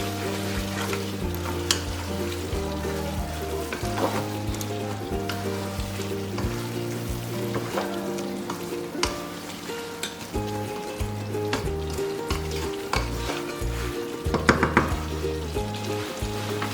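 Cooked chicken meatballs are stirred into a sizzling curry base in a pan, with a steady frying hiss and occasional scrapes of the spoon throughout, close and continuous with no one speaking.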